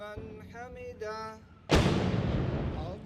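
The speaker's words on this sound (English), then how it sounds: "Rockets rained down around Afghanistan's presidential compound." A rocket explosion near Afghanistan's presidential compound: a sudden loud blast erupts after a few seconds of tonal sound, followed by a long rumbling, noisy decay.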